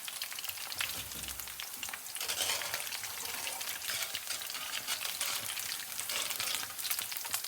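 Potato balls deep-frying in hot oil give a steady, dense bubbling sizzle, fairly close and even throughout, with a faint low stir or bump near the start.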